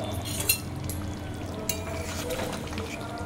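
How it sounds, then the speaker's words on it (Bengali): Fried eggplant being stirred into a hilsa fish curry with green chillies in a pan, with quiet scraping and a couple of light clinks over a low steady simmer, close by. "ওপরে যেই বেগুনটাকে রেখে দিয়েছিলাম ভেজে, সেটাকেও এটার সাথে মিশিয়ে দিচ্ছি"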